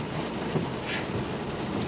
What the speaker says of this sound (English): This rain is coming down really hard.